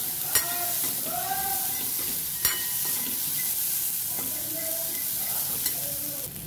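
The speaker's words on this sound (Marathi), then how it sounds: "व्यवस्थित मस्त हलवायचं।" Chickpeas with red chili powder and spices stirred in a hot pan for chana masala, a steady close sizzle broken by a few sharp spoon scrapes and clinks, with no voices.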